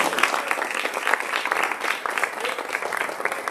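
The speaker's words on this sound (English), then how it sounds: "Let's give Hebe another round of applause." Audience applause at a campus talk at Cornell, a steady dense patter of many hands clapping throughout, moderately loud and fairly close, with no voices over it.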